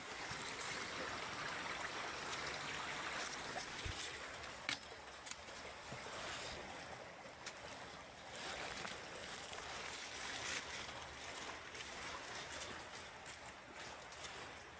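River water pours into a water trap at a treasure-hunting spot beside a lone tree, a steady broadband rushing and splashing that fills the whole stretch, with a few faint knocks and no talk.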